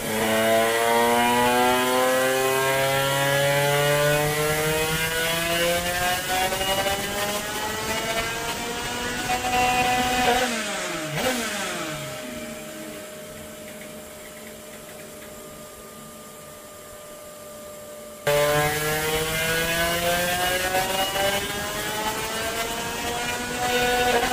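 Small engine fitted with a 34 carburetor revving on a dyno test bench, a loud rising and falling engine whine with sweeping harmonics, a quieter low-revving stretch midway, then a sudden return to full roar.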